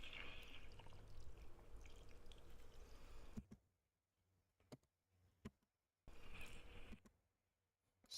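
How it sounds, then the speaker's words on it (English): Water pours from a watering can in a steady splashing rush, then drops to near silence with a few faint clicks before the pouring starts up again. "Stopping and pouring the water, putting it there."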